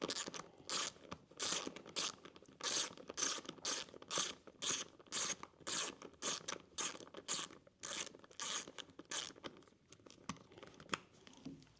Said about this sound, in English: 5/32 hex head, take the screws out that came with it